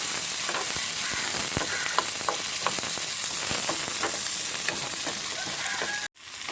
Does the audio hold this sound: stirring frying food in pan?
yes